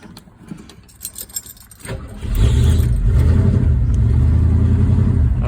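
A Ford 302 V8 with a Speedmaster 350 carburetor and 3.5-inch exhaust cold-starts after sitting a week, some light clatter before it cranks, then catches near second two and settles into a loud, steady, deep rumbling idle close by.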